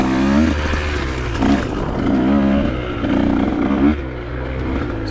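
A dirt bike's engine pulls away in first gear on a tight red trail, its note climbing and dropping in repeated surges between throttle blips, loud and near the rider.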